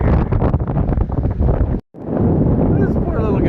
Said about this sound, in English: It's too windy for him.